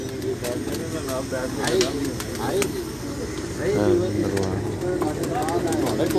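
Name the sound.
pigeons cooing on a rooftop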